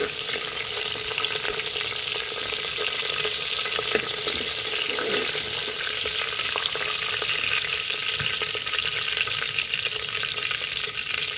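Green chillies fry in a pan for a gongura chicken curry, giving a steady, loud, even sizzle throughout with a few faint stirring clicks and no talking.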